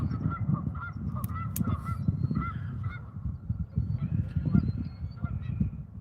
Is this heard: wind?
no